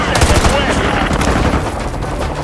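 Rapid automatic gunfire in Call of Duty Modern Warfare 2 Remastered rattles close and loud in short bursts, with a voice talking over it.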